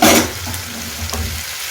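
Something frying in a pan during home cooking, a steady close sizzle with a louder burst at the start, then a continuous hiss without talk.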